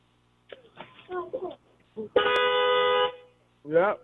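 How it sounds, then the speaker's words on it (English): A car horn gives one steady honk of about a second, close and loud, between bursts of people talking. "Nah, that's a horn."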